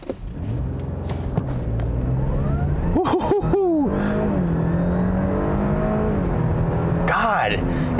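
A 2021 Audi A6 Allroad 3.0T engine runs with a smooth, steady, moderate hum that rises in pitch with a few quick revs, under someone talking.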